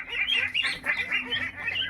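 Local domestic ducks honk and quack in a quick series of repeated nasal calls, close by and loud, with no talk over them.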